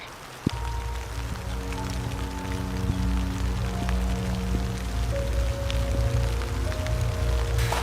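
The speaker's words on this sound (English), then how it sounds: "now it's officially raining really bad" Heavy rain falling outdoors, a steady dense patter of drops across the whole stretch, with a low tonal hum running underneath and a sharp knock near the start.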